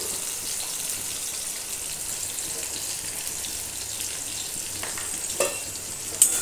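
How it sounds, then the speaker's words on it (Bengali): Potato pieces dusted with chilli powder fry over low heat in a pan, a soft continuous sizzle with a few spatula scrapes and stirring clatters near the end. "আবারও একবার এভাবে নাড়িয়ে নাড়িয়ে ভাজবো"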